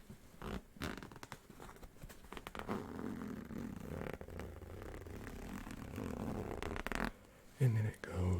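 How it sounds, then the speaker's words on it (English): A stuck zipper on the front pocket of a piece of luggage is worked open in soft, uneven scraping pulls, close and quiet, with faint handling noise around it. "Seems to be stuck, the zipper."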